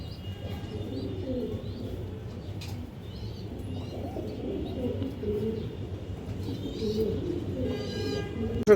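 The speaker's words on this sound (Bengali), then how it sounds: "এই যে দেখেন সিলভার বাঘা কবুতর" Pigeons, including a silver Bagha breed in a home loft, coo softly and continuously at close range with a low, rolling murmur, a few faint chirps mixed in.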